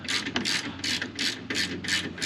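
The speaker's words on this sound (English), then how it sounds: "I'm going to go ahead and snug those bolts up" Ratchet clicking in quick bursts as 15mm bolts are snugged on a winch mount bracket for a 2022 Polaris RZR XP4 1000, close and clear with repeated pawl clicks and no talk.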